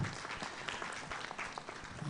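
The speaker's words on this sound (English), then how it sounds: "can we give her a round of applause as she comes?" Audience applause welcoming a woman doctor arriving at a county executive committee induction session, a steady dense patter of clapping throughout with faint voices beneath.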